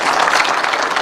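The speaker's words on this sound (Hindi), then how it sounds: "सही है तो बजाओ ताली एक बार कस के।" Children clap loudly together at a yoga session, a brief, dense burst of applause with many hands overlapping close by.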